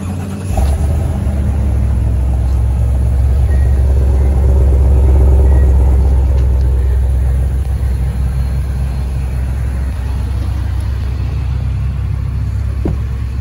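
A 2022 Ford F-250 XLT pickup starts from cold: a brief crank, then the engine catches with a loud low rumble that swells and settles into a steady, deep idle.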